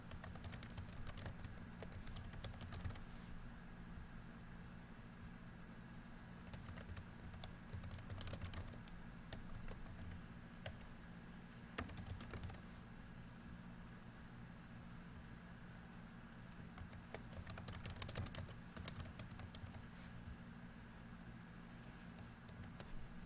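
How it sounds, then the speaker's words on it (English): Steady typing on a computer keyboard, a quiet continuous patter of key clicks with occasional louder taps, heard alone over a faint background hiss. "So let's just type in"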